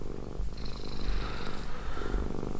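A stressed house cat that has been losing fur purrs steadily up close, a continuous low rumbling vibration with gentle rhythmic swells through each breath.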